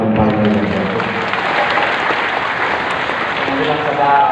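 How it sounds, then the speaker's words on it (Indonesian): A church congregation claps loudly and continuously, the dense applause mixed with voices for a few seconds. "Tepuk tangan yang paling banyak."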